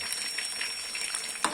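Fish frying in a pan for a traditional Pakistani village fish fry, a steady close hiss of sizzling oil ending in one sharper crackle.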